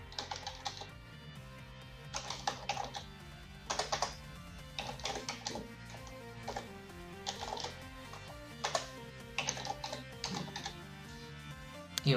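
Fingers type an email address and password on a computer keyboard in irregular bursts of close, crisp key clicks separated by short pauses, with no talking over it.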